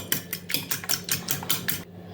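A fork clinks rapidly against a bowl, whisking eggs, in a steady rhythm of about eight quick strokes, close by, then stops; no talking.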